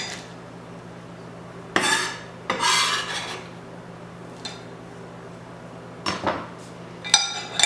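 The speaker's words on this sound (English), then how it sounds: "we can just begin to stir this until the entire chocolate mixture is completely smooth" A spoon scrapes and stirs melted chocolate in a bowl while chocolate bark is made. The scraping comes in a few short, close bursts separated by quiet pauses, and no one speaks.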